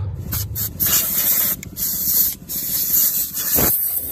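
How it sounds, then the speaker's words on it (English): Compressed air from an air compressor nozzle blowing debris off a Kawasaki FE290 small engine, loud close bursts of hissing air in several blasts with brief gaps between them. "Let's go ahead and get the air compressor fired up and get this thing blown off."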